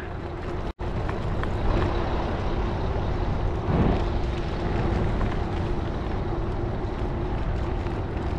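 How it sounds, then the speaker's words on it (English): A big pickup truck approaches from behind on a damp rural road near North Gainesville, Texas, its steady broadband engine and tire rumble swelling gradually under the constant road noise of the vehicle ahead. "Got somebody coming up behind me in a big truck"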